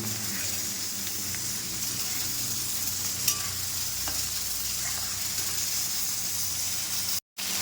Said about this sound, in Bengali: আমি ভেন্ডিতে দেখো একটু লঙ্কা গুঁড়ো হলুদ গুঁড়ো আর লবণ দিয়ে ভাজি করে নিচ্ছি